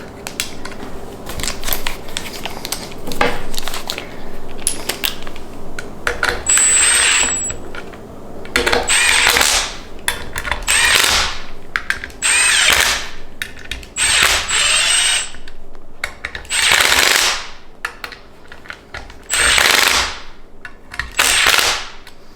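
A 3/8-inch impact wrench drives bolts home while an AP Racing brake kit goes onto a 2000 Honda Civic, a series of about eight loud, short rattling bursts separated by brief pauses, close by in a quiet garage.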